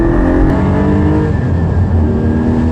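A Porsche 718 Spyder engine revs hard and loud close by, a sustained throaty roar with rising and falling pitch throughout.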